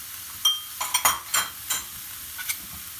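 Minced meat and garlic brown in a pan while being stirred, bright sizzling bursts and scraping clinks of a utensil against the pan coming in irregular strokes over a soft frying hiss.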